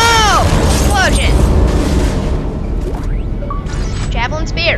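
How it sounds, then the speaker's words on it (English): An explosion in the game Dead Space bursts out with a loud crash and rumbling roar. Debris and mechanical clatter follow over a dense, noisy game soundscape. "Oh, explosion."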